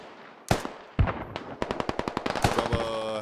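Automatic gunfire in the military shooter game Squad: a few separated single shots, then a rapid, loud burst of machine gun fire rattling close by, with another heavy shot and bursts near the end.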